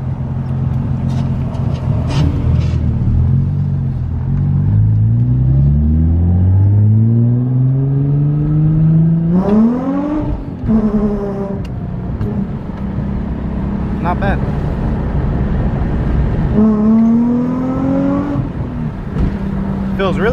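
A Nissan 350Z engine with a misfire history revs up in long rising sweeps, falls back, then climbs again in a shorter second run, loud and close throughout.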